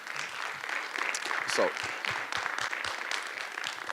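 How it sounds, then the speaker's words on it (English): An audience at a speaker series talk applauds, a soft, crackly patter of many hands in a hall, fairly faint and steady for several seconds. "So you can clap for that."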